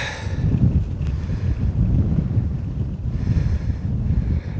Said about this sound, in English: So definitely a little more wind in my back.